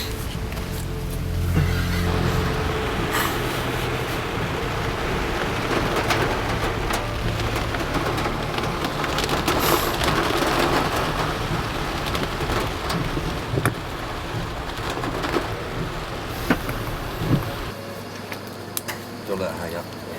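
Heavy tropical rain during a cyclone drums steadily on surfaces throughout, a close, continuous wash of downpour with a few brief louder knocks and no clear speech.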